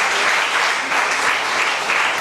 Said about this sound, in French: Les gens applaudissent.